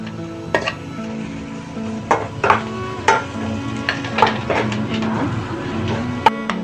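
Onions fry in a pan for a pepper egg masala, a low background sizzle broken by sharp scraping and clinking strokes of a spatula against the pan, close and fairly loud.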